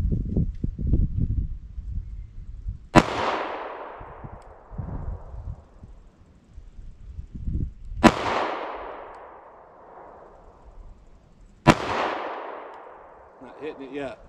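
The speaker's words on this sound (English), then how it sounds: "I'm not gonna fire as fast, but just as long as I think I need to land these shots with this handgun" Three sharp, loud gunshots from a Taurus handgun fired at a target 50 yards away, spaced several seconds apart, each followed by a long ringing echo decay, with muffled movement and handling noise between shots.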